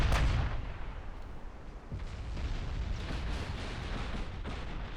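A torpedo strikes a warship in the naval battle game Ultimate Admiral Dreadnoughts, landing as a sharp opening blast followed by a low, rumbling roar of gunfire and explosions that continues steadily.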